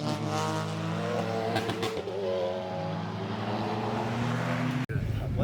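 Race cars lapping the Oulton Park circuit, engines droning and revving with rising and falling pitch as they pass, loud and fairly close, ending in a sharp bump, with talk from an announcer underneath.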